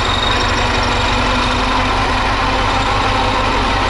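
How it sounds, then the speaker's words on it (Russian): Tractor engine running in first gear during haymaking, a loud steady low diesel rumble with constant vibration and no variation or talk throughout. "включаем первую передачу"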